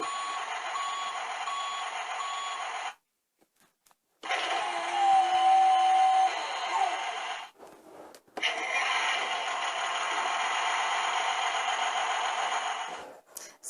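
A Tonka Wobble Wheels toy recycling garbage truck plays electronic button sounds, three bursts of tinny, buzzy reversing-beep and engine noise separated by brief silences, close and quiet.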